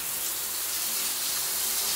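Steady, hissing rush of water pouring continuously, like a shower running indoors, with a faint low hum beneath the spray.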